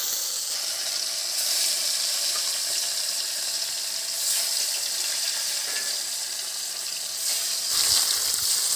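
Fish pieces frying in hot oil give off a continuous loud hiss with a few swelling bursts, heard up close and alone.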